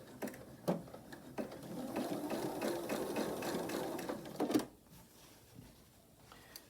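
A sewing machine runs steadily and fairly slowly along a long, pinned quilt seam for a King's Crown quilt block, a close, even mechanical whir with rhythmic clicking that stops near the end, with no talking.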